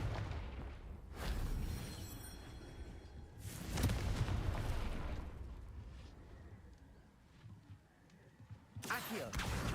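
Several loud blasting bursts from a Confringo fire spell in Hogwarts Legacy, with sharp booms around one, three and a half to four, and nine seconds, and a rumbling game background between them.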